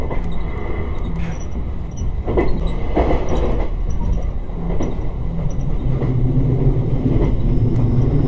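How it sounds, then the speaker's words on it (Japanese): White Kamome limited express train runs from Hakata toward Nagasaki beside the Ariake Sea, its loud, steady interior rumble carrying faint rhythmic rail clicks throughout. "列車は有明海沿いを走ります。"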